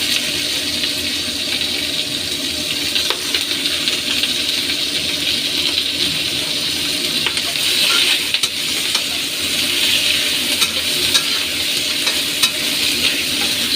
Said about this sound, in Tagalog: sigisa muna natin ang ginger. Tapos, isunod natin yung onion